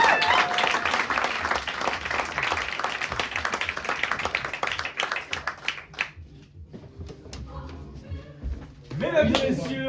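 A theatre audience at an improv show in Lyon claps warmly and densely for the stage manager; the clapping thins out and fades, and a voice speaks briefly at the end.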